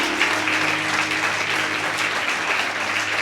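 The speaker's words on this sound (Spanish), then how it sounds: "Dele un aplauso fuerte a esta hermosa iglesia." A church congregation claps loudly and continuously at a fourth-anniversary service, dense steady applause with a faint musical tone sustained underneath.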